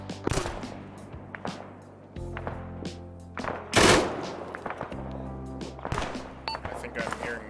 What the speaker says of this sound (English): I think I'm hearing mortar fire.